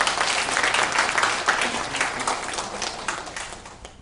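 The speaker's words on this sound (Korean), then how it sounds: "자, 다시 한번 환영의 박수 부탁합니다." Audience applause welcoming a guest speaker at a university lecture hall, a dense sustained wash of many hands clapping that slowly tapers off over four seconds.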